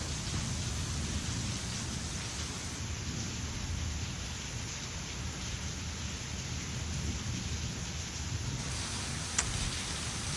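Heavy rain pours outside in a dense, unbroken roar, steady and loud throughout, with one brief tick near the end.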